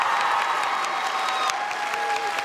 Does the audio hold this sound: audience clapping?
yes